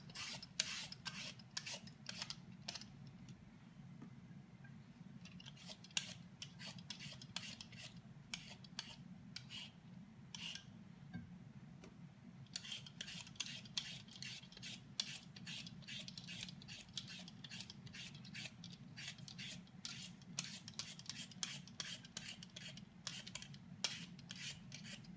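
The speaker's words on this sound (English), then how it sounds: "while the mince is cooking, I'll be peeling my potatoes to save time" Potatoes being peeled by hand in a home kitchen, heard as quiet, repeated rasping scrape strokes in quick bursts separated by short pauses.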